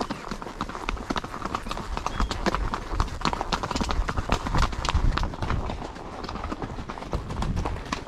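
Horse hooves clip-clop steadily on hard ground, a fast, continuous patter of close hoofbeats throughout, with faint voices in the background.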